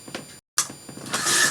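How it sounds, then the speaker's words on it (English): Wooden cabinet doors rattling as a large dog lies against them and scratches, a close, busy rattling buzz with a brief silent break, then growing louder. "every time he scratches, the cabinet doors rattle."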